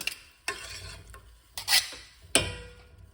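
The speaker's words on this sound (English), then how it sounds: "So zest up the lemon" A lemon being zested in short rasping strokes, four distinct scraping bursts separated by brief pauses, close and clear with no talking.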